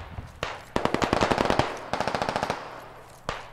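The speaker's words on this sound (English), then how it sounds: "I still hear a lot of gunshots coming from the windows" Bursts of rapid automatic gunfire in the video game Squad, loud and close, in several rattling volleys with short gaps and a single shot at the end.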